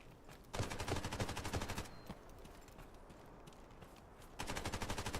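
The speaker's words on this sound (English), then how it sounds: "Sounds like just bot shooting up here." Bot gunfire in the video game Delta Force: rapid automatic bursts, fairly faint and distant, with a pause between two volleys.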